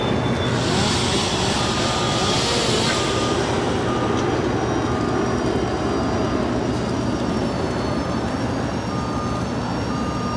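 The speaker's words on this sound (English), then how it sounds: "We also have FedEx Flight 430 will be heading to Memphis in a 767-300." FedEx Boeing 767-300 jet at LAX, a sustained loud engine roar with a high whine early on, heard continuously from some distance with no one talking.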